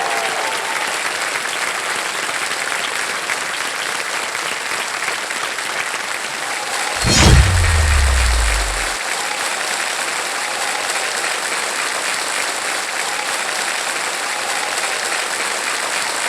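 Steady, loud studio audience applause fills a television quiz show set as a champion athlete is welcomed, continuous clapping with a brief low thump partway through.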